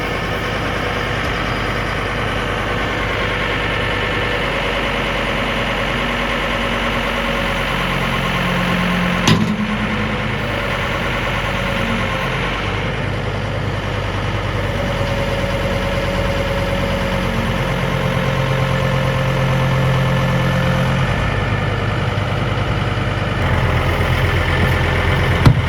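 A tractor engine idles steadily at close range for the whole stretch, a constant low mechanical drone with vibration and one brief knock partway through, no voices over it.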